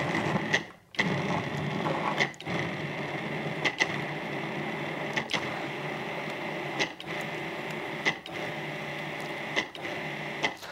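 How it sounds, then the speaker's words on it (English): A Cuisinart food processor pulses chilled butter into flour for scones, giving a steady whirring motor with short regular interruptions every second or so, moderately loud and with no voices. "now just a couple of on and off until the butter really mixes nicely into the flour"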